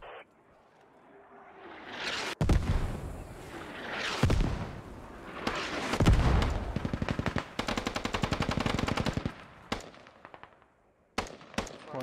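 Squad combat during a competitive Rivals match: a grenade blast rings out amid bursts of rapid machine-gun fire and scattered single shots, loud and close, with rattling volleys and sharp cracks continuing through the scene.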